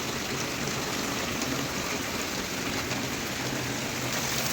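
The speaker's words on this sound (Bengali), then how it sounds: "এখন তেলের মধ্যে এটা দিয়ে দিচ্ছি, একটু নাড়াচাড়া করে একটু কষে নিচ্ছি।" Mustard and poppy seed paste with turmeric and red chilli powder frying in hot oil gives a dense, steady hiss and crackle that runs unbroken throughout, close and moderately loud.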